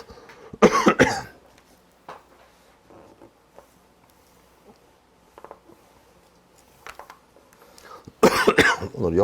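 Harsh coughing fits come in two bursts, one near the start and one near the end, close and loud, with quiet rustling in the room between them.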